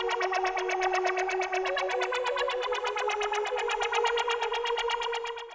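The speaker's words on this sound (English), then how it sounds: "Then I layered the cello with this synth." A sustained, buzzy synth tone layered with cello pulses rhythmically over a held low note, steady and loud for several seconds before fading.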